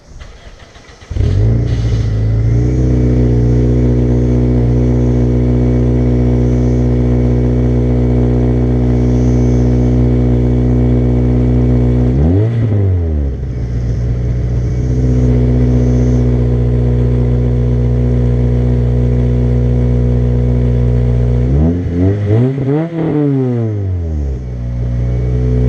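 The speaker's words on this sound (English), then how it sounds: "We're gonna do a cold start on this thing with a broken muffler" An Acura RSX Type S engine cranks and cold starts, then runs with a loud, raspy idle through a broken muffler, dipping briefly twice as if blipped, no muffler damping the roar.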